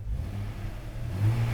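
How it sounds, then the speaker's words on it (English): A 4-liter Jeep WJ engine idles through its factory muffler, making a steady low exhaust rumble that rises slightly near the end, with no talk over it. "Now, exhaust noise."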